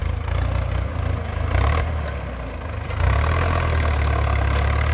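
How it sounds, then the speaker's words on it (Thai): A Ford tractor's engine runs steadily while plowing and uprooting stumps in a field, a loud low rumbling drone with slight shifts in load partway through, close by and with no voices. "ระบบการไถของรถไถฟอร์ดนี่"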